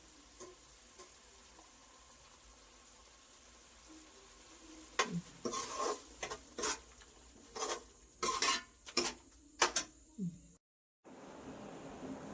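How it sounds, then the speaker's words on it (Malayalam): Ground coconut paste being stirred into brinjal theeyal in a pan: intermittent spoon and pan clatters and scraping with faint sizzling, clustered in the second half, then a brief silence. "ഇനി നമുക്ക് ഇതിലേക്ക് അരച്ച് വെച്ചേക്കുന്ന അരപ്പ് ചേർത്ത് കൊടുക്കാം"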